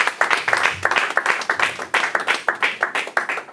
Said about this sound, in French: On acclame pour l'interprète.